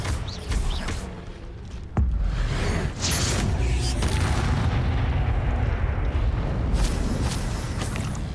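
Confringo spell explosions in Hogwarts Legacy, with a sharp boom followed by dense, rumbling blast noise and scattered cracks that stay loud and continuous throughout.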